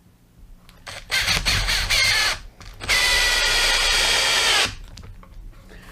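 A Makita DTP141Z cordless impact driver drives screws in two loud, close bursts, a shorter one followed by a longer sustained rattling hammer, with no talking.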